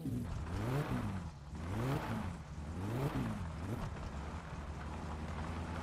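Car engine in the video game My Summer Car, revving up and down in repeated rising and falling sweeps, a steady loud drone throughout with no speech.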